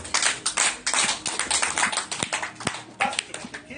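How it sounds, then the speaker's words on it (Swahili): A church congregation claps hands together after a prayer at a Bible study, a burst of many overlapping claps at close range, uneven and lively, continuing for several seconds without speech. "Basi tupigie Bwana makofi."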